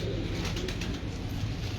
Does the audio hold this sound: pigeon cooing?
yes